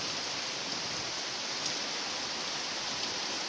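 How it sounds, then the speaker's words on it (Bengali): Heavy, steady rain pours down outdoors during a cool, windy spell, a dense unbroken hiss that stays loud and even throughout, with no voices. "এত বৃষ্টি পড়ছে, এত প্রচণ্ড পরিমাণে"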